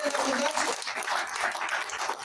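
A church congregation applauding, a dense, steady wash of many hands clapping at moderate loudness across the whole stretch, with no break.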